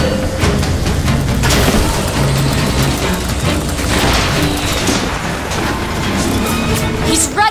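Loud, dense battle din with repeated booms and crashes from rocket explosions in BioShock Infinite, continuous throughout, with other game sounds layered in.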